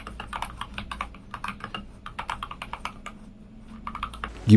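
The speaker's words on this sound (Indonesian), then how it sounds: "yang penasaran suara yang dihasilkan keyboard ini gimana?" Rapid, steady typing on a keyboard, many soft distinct keystrokes close to the microphone, with a brief louder thump at the very end.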